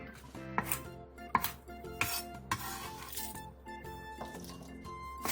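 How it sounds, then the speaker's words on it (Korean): A knife chops half a green onion into large 3 cm lengths on a cutting board, with irregular crisp thuds and light clinks of the blade, fairly quiet and unaccompanied. "대파 2분의 1개를 3cm 정도 길이로 큼직하게 잘라주세요"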